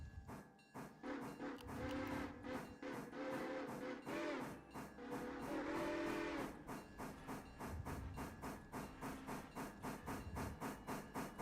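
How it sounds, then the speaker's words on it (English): A steam locomotive in the railroad game Railroader, a Decapod, chuffs in a steady rhythmic beat with hissing steam and a sustained whistle. It grows loud and close, with no one talking. "Let's get the Wilmot train rolling."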